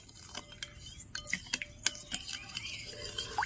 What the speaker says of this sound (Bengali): এবার এগুলোকে আমি খুব ভালো করে একটি চামচ দিয়ে মিশিয়ে নিচ্ছি